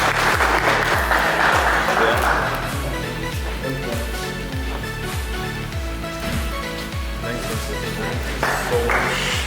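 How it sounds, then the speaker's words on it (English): Audience clapping at the unveiling of a Motormind Hexa styling kit, a dense burst of applause that fades a little over a steady rhythmic beat, with a brief swell near the end. "I want to clap for you."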